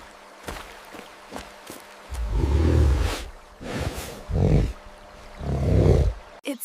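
Bear giving several deep, rough grunting roars in separate bursts, close and fairly loud, with faint rustling and footstep-like thuds between the calls.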